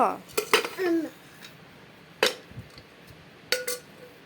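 Several sharp metallic clinks and clunks of a lid being set onto a pressure cooker, spaced apart, with brief voices in between.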